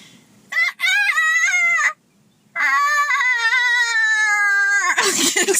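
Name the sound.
rooster crowing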